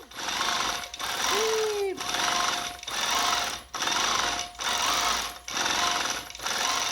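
A longarm quilting machine stitches a zigzag quilt-as-you-go design in steady loud bursts, each run of rapid needle chatter broken by brief pauses, with a short whine from the machine partway through.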